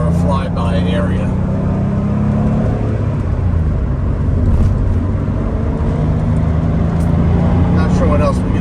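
A 1998 Porsche 911 993 Carrera 2 Cabriolet driving on a winding road, a steady engine drone and road rumble heard from inside the car, with people talking over it at points.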